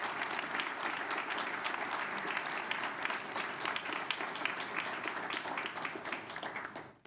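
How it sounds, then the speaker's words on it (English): An audience at a board meeting gives a sustained round of applause, dense, even clapping from many hands that carries throughout and fades out at the very end. "let's give it another big round of applause for Ty's celebration of life."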